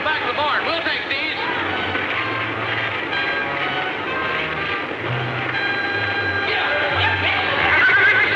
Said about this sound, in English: Them horses may start sounding off again.